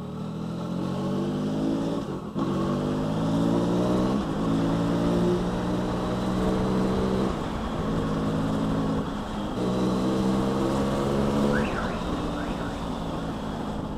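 A loud, steady 2021 Yamaha XSR 900 motorcycle engine drones with strong low harmonics throughout, its pitch shifting slightly as it revs and idles, close to the listener.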